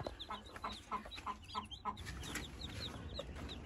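A grey hen clucks softly and repeatedly beside her newly hatched chicks, whose high, thin peeps chirp in quick bursts throughout, close and clear over a faint background hum.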